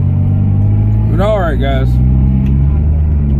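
A car fitted with a Tsudo S2 exhaust revs once, a sharp rising and falling engine note over about a second, heard close and loud over a steady low idle rumble, with someone talking afterward.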